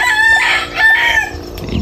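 A rooster crows loudly and close by, one long rising and falling call.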